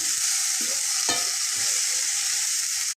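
Broccoli tossed into sautéed onions in a pan, a loud steady hiss of frying with a couple of clattering stirs early on, close up, ending abruptly.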